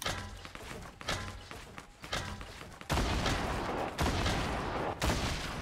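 Gunfire in the Fortnite video game, a dense fusillade of rapid shots that grows louder and nearly continuous in the second half, with a few heavier thumps mixed in.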